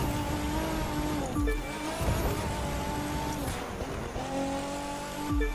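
Race car engine in The Crew 2 game drones steadily with gear shifts and pitch drops as it brakes late into turns, a continuous engine tone with no talk.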